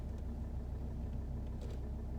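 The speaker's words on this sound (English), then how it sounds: "I'm driving from the garage" Car pulling out of a garage, a low steady engine rumble close by with faint higher noises briefly on top, no talking.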